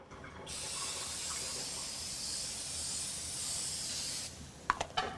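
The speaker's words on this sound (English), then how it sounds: "Okay, Joe, now that the grill is nice and hot, we're gonna add our nonstick spray." A loud continuous hiss of nonstick cooking spray on a hot grill lasts about four seconds, followed by a few sharp sizzling crackles and clicks.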